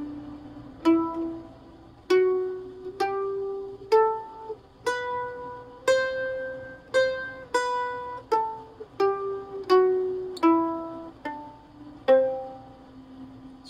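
Mandolin picking a G Lydian mode scale, about a dozen bright plucked notes climbing steadily one at a time, each ringing briefly with clear harmonics, played alone with no talking.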